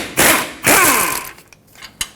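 A hand tool works loose the 21mm brake caliper bracket bolts on the front knuckle of a 2003-2012 Chevrolet Colorado: two loud, close mechanical bursts, then quieter clicks and a sharp final knock.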